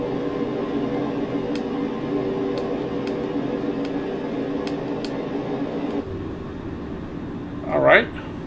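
Boeing 307 piston engines in Microsoft Flight Simulator 2024 run up to 1500 RPM, a steady droning hum with layered tones that shifts partway through, and a brief voice-like swell near the end.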